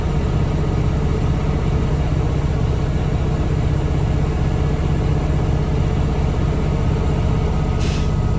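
A large diesel truck engine idles steadily and loudly, and near the end a short burst of air hisses briefly above the rumble as the air brake governor cuts off at 120 psi.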